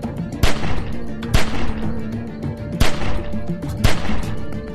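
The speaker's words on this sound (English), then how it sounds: "Remember, don't stop shooting." Gunfire in The Walking Dead video game, with four sharp, loud shots spaced about a second apart over a busy, rumbling background, each crack ringing out alone.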